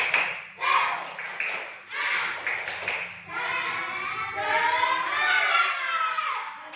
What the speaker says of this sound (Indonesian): kita tutup hari ini dengan tepuk semangat dulu. Tepuk semangat.